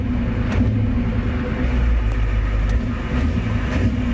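A 1990 Ford F Super Duty's 7.3 IDI diesel engine runs steadily after injector replacement, a continuous close, low rumbling idle with a few faint clicks on top.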